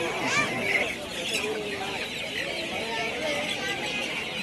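Chickens, including black Chinese-type birds, cluck and chatter continuously at a busy outdoor poultry market in Pebbair, with a murmur of background voices mixed in.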